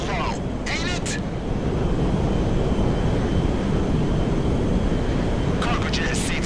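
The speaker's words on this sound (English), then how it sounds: "It's kind of reckless flying that big plane so low, ain't it?" A big cargo jet flies low in the GTA 5 video game, its engines making a loud, continuous roar with brief radio-style voices breaking in at the start and end.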